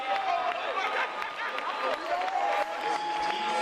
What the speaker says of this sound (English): you're hearing it now as the fans continue to clap to help this woman around the track